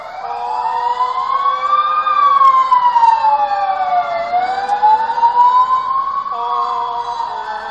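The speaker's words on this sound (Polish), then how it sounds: "Karetka pogotowia jedzie." Ambulance siren passing close by on a street, loud wailing tone sweeping up and down in pitch continuously.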